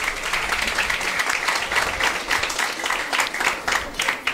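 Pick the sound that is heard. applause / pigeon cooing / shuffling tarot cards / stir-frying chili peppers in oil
applause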